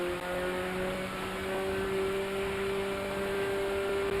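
In GTA 5, a slow car's engine drones at a steady, thin, buzzing pitch much like a lawnmower, holding constant throughout without talk.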